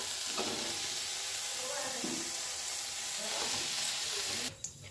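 Shrimp frying in oil in a wok (kadai), a continuous soft sizzle with stirring scrapes throughout, cutting off abruptly near the end.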